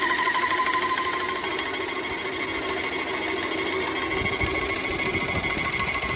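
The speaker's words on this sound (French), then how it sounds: "Donc là, j'allume la pompe. Et là, j'appuie sur le pistolet." Paint sprayer pump from a pressure roller kit running while its spray gun sprays water, a steady loud mechanical hum and whine held throughout with no talk.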